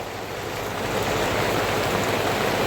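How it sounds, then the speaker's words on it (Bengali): Heavy rain pours steadily during an outdoor Hindu ashtaprahar Harinam sankirtan gathering amid a storm, a dense, even hiss of falling water that holds loud and constant throughout, with no voices heard. "ভালোই বৃষ্টি হচ্ছে"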